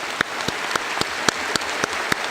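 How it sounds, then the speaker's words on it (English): Applause at a Youngstown State University summer commencement ceremony: fairly quiet, diffuse clapping from the audience, with a few sharper individual claps standing out at regular intervals. "so let's just applaud for all of them"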